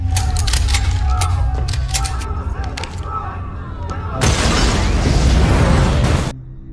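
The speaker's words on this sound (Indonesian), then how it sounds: "ledakan besar pun menghancurkan seluruh gedung" In a film, a large explosion erupts midway as a loud, roaring burst that rumbles for about two seconds and destroys a whole building before cutting off, following a stretch of busy mechanical sounds and clatter.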